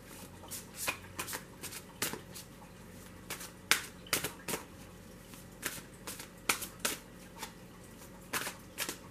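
Tarot cards are shuffled for a reading, producing quick, crisp riffling bursts repeated at irregular intervals, close and fairly quiet with no talk.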